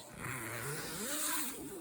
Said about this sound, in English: It's got a zipper here,